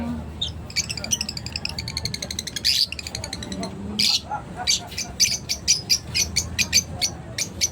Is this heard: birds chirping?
yes